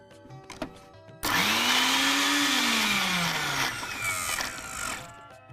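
A kitchen mixer grinder crushing pani puri water ingredients, including black salt, table salt and lemon juice, switches on abruptly and whirs loud and steady with a falling motor pitch, then winds down near the end.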